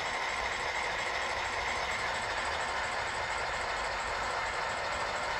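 An HO scale Rapido EMD E8A model locomotive runs with a continuous, even motor hum and faint track rumble, steady and unbroken throughout.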